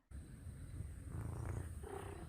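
A Maine Coon cat purring close up, a steady low rumbling drone that runs unbroken and fairly soft through the whole moment, with no voices over it.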